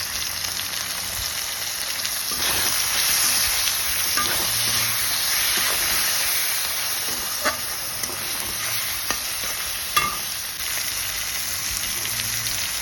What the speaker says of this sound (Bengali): সব গুঁড়ো মশলা দিয়ে এটাকে ভালো করে কষিয়ে নিচ্ছি।